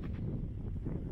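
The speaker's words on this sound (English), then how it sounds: "I didn't realize over here was gonna be this windy" Wind buffets the microphone at an open park beside a baseball field, a steady low rumble filling the short stretch with no voices.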